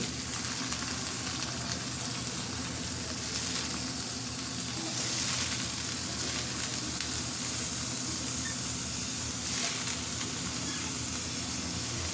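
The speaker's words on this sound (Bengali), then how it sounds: "এই যে আমি চাউলগুলা এখন দিচ্ছি" Broken rice dropped into a hot pan gives a loud, continuous broadband sizzle that holds steady and hissing for the whole stretch, with no voices.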